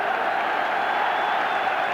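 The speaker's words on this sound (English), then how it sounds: "The City players applauding Eric Nixon." Manchester City footballers applaud their young goalkeeper Eric Nixon during an Everton v Manchester City League Cup quarter-final, heard as a steady, dense wash of crowd applause and noise that holds evenly throughout.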